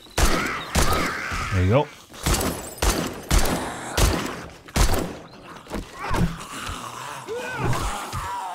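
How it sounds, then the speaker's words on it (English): A rifle fires in 7 Days to Die with loud, widely spaced single shots in a steady rhythm, accompanied by grunts and impact thuds, while someone talks briefly. "And let's use the rifle."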